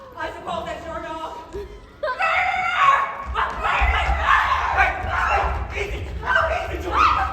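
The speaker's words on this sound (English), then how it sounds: "I suppose that's your dog." A dog named George barks in a stage play, a few sharp yaps heard under and between excited talking, with a crowd murmuring in the background.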